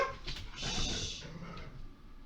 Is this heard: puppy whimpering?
yes